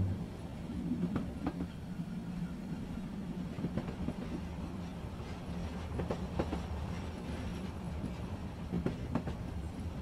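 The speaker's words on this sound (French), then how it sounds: "Le bruit régulier du train sur les rails vous apaise." A train rolls along the rails with a steady rumble and a soft, regular clickety-clack that repeats through the whole stretch. The sound is continuous and moderately loud, with no voices.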